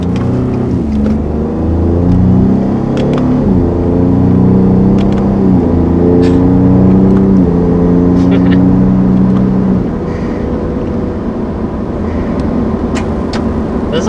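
A 2020 Ford F-150 Raptor pickup engine revs up through a series of rising pitches, dropping sharply at each manual paddle-shifted gear change, then settling to a lower steady drone.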